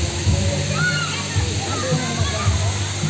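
Water sloshes and splashes continuously at a stone spring where people are bathing, a steady rushing wash with voices talking nearby.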